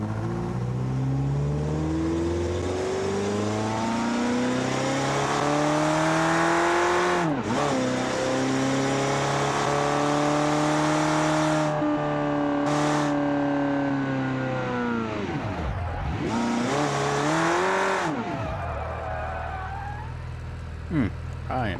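A BeamNG video game car engine that shakes and loses all power going into second gear, heard as a steady, loud, continuous drone with rising and falling pitch and occasional gaps where it drops out, with talk faintly mixed in.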